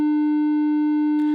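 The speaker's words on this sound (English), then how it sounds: "if we listen to our 300 hertz wave again" A steady, low 300 hertz sine wave tone holds constant and loud for over a second, with a brief burst of noise near the end.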